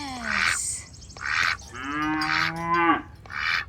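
A cow in a mountain meadow moos four or five times in close succession, each call loud and drawn out with a rising, groaning tone and short gaps of quiet between.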